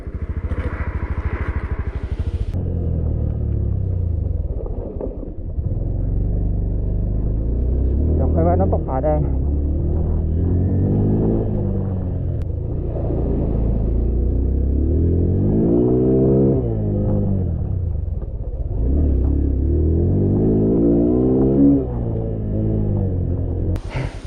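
An off-road motorcycle climbing a muddy trail in the rainy season, its engine held at high revs in long rising and falling roaring surges, loud and close, alone without talk.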